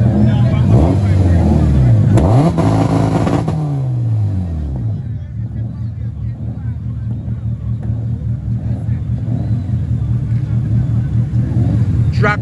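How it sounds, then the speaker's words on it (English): Drag racing cars at the Mobay race track, with a loud engine roar that climbs in pitch and then drops away. A lower engine rumble continues underneath alongside a voice speaking. "Drag racing at its best."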